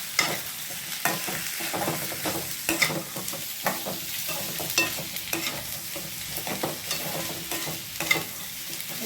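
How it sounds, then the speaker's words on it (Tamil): Coconut and tamarind sautéed in a pan for mint chutney, with a steady sizzle and repeated rhythmic scraping stirs of a spoon, close and fairly loud, no voices. "அப்படியே வதங்க"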